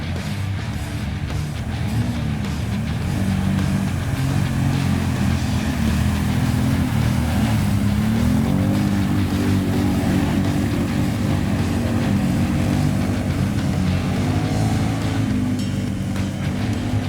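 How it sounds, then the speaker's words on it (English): Two 1000cc ATVs, a BRP Outlander and a Sharmax, crawl over obstacles. Engines drone steadily with a low rumble and shifting revs under wind noise, and nobody speaks. "Both quads are passing first obstacles without any problems."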